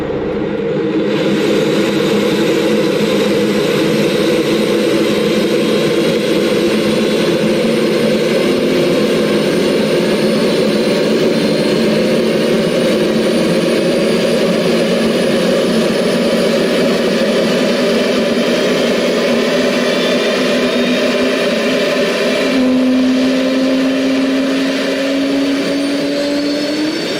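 Concorde jet engines spooling up during start in the X-Plane flight simulator, a steady loud whine and roar that holds throughout, with a rising tone near the end and no talking.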